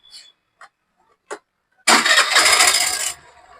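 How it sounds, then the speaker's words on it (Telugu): A few faint clicks, then a motorcycle engine self-starts, cranking and firing, running loudly for about a second before dropping to a quieter idle. "మీకు సెల్ఫ్ కొట్టి కూడా చూపిస్తాను ఒకసారి"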